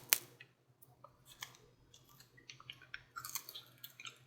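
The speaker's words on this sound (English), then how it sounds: "You can see it's a little bit, you can hear it crunching." Crunchy bacon-wrapped banana being chewed up close, a string of faint, crisp crunches and clicks in an irregular rhythm with no talking.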